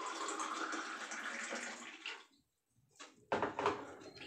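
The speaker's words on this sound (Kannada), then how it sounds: "ನಾನು ಇವಾಗ ಒಂದು ಲೋಟ ಬಿಸಿನೀರು ತೊಗೊಳ್ತೀನಿ." Hot water pours into a drinking glass indoors, a close, steady splashing stream lasting about two seconds, then a pause followed by a few brief knocks and splashes.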